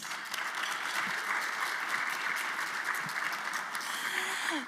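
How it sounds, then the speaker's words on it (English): A ceremony audience gives sustained applause, a steady, even roar of many hands clapping from start to finish with only faint traces of voices beneath. "You can give yourselves a round of applause."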